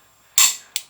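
A torque wrench clicks while tightening engine rockers on installed heads: one sharp metallic click, then a second, lighter click close behind it, both close up in a quiet room.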